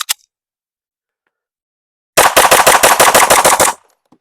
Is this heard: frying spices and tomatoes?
no